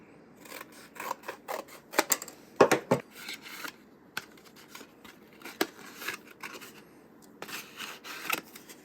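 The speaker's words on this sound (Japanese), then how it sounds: "ということでとりあえず開封しましょう。" Packaging for a GoPro HERO 12 camera is opened close up: a run of crisp rustles, scrapes and snips of cardboard and plastic in irregular bursts, fairly quiet, with no talking.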